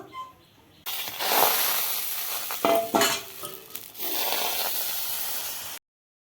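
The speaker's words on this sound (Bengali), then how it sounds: "কড়াই বসাই দিয়েছি দেখো উড়িয়ে এখন একটু বাটার দিয়ে দিব" Butter sizzling in a hot wok, a steady bright hiss that starts suddenly and runs for several seconds, with a few utensil scrapes and clinks, then cuts off.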